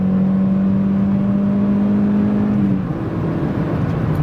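Peugeot 206 GT with a 2.16-litre engine pulls hard under acceleration, a loud steady engine drone holding one pitch before easing off and shifting into a rougher, lower note near the end.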